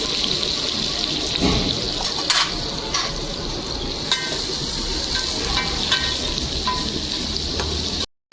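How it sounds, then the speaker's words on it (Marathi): Onion and garlic fry in oil for a spicy dried-fish curry, a continuous close sizzle with a few clinks and stirring scrapes throughout and no talk. "आणि लसूण तेलामध्ये चांगले लाल करून घेतले"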